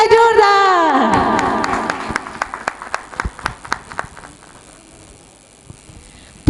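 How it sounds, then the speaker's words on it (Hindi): At a religious ceremony, a crowd claps in a round of applause that starts under ringing music and thins into scattered individual claps fading toward the end. "तालियां जोरदार"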